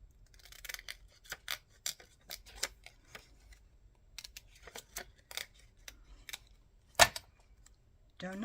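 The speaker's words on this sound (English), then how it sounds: "I'm going to cut them out and see" Scissors snip through printed paper pieces for a papercraft journal in a quick series of close, crisp cuts with short pauses between them, followed by a sharp paper rustle near the end.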